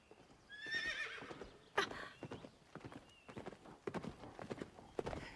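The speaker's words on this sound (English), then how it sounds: "There's Zelda's white horse in the background." Zelda's white horse in The Legend of Zelda: Breath of the Wild gives a high whinny, then its hooves clip-clop in a steady walking rhythm, close and clear with game ambience.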